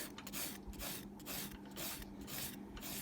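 A buffer rubs across the surface of an acrylic nail in repeated strokes, a soft rasping that swells and fades about every half second, faint and close.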